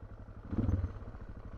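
An adventure motorcycle rides over loose, silty dirt with a low, rumbling engine and a brief swell of throttle and clatter partway through, heard up close.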